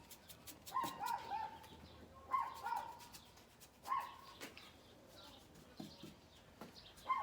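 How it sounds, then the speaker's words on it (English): Small Chihuahua dog barks faintly in the background, sharp high yips in short clusters spread over several seconds in an indoor workshop setting. "you hear my dog barking in the background"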